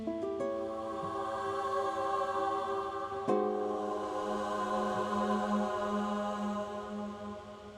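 A soft, sustained choir-like synth pad from a Godin Multiac MIDI guitar swells with layered vocal tones, shifting chords once midway and holding steadily throughout.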